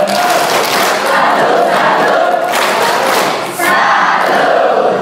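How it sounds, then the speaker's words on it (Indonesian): A large congregation at a religious vows ceremony in Ende, Flores gives a choir a loud, dense clap-and-cheer salute, a continuous roar that dips briefly and then swells again. "Tepuk salut untuk mereka."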